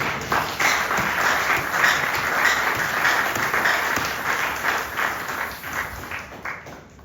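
A church congregation breaks into sustained, dense applause and acclaim for the Lord during a worship service, loud and steady throughout before tapering slightly at the end.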